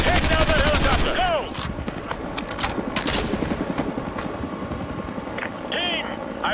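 Enemy attack helicopters and dense gunfire in Call of Duty Modern Warfare 2 Remastered: rapid bursts of automatic fire and explosions layered over a steady rotor drone, loud and continuous, with radio-style voices speaking over the battle.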